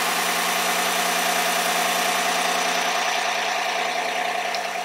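A car engine idles just after starting, a steady continuous hum with a faint knocking texture, close and loud, running evenly without variation and with no voices.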